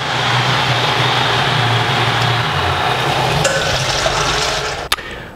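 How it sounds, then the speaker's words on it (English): A BREWHA keg washer drives a high-pressure water spray against the inside walls of a keg, a loud continuous hiss and rush that holds steady, then cuts off abruptly with a brief clunk near the end. "a high pressure spray will actively attack the sides of the keg"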